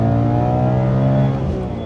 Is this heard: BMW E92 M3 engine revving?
yes